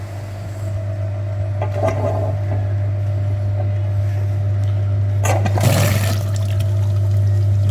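A radiator flushing machine pumps liquid through a badly clogged heater radiator in a Peugeot 308, giving a loud steady pump hum with gurgling bursts of liquid flow.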